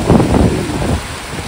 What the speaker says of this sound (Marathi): अशा लाटा आहे लाटा.